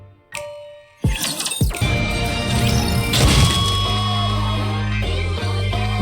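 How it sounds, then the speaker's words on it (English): A guitar being smashed in the video game Goddess of Victory: Nikke: a sharp thud, then a loud crashing impact with splintering clatter, followed by lingering ringing tones and a low hum. "Why are you smashing up a perfectly good guitar?"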